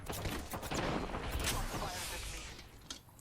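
Rapid bursts of gunfire crackle through a match of the shooter game Apex Legends, dense and overlapping in a loud fusillade that tapers slightly toward the end, with no voices.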